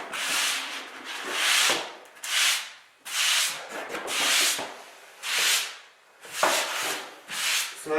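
Rough side of a sanding sponge scrubs dried drywall compound in quick back-and-forth strokes, a close, dry rasping swish repeated in bursts of two or three with short pauses between, no voices.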